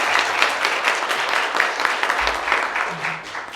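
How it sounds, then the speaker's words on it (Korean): Audience applause at a children's council policy presentation in Changwon, a dense steady wash of clapping from a seated crowd lasting throughout, fairly loud with faint low rumble underneath. "큰 박수 부탁드립니다"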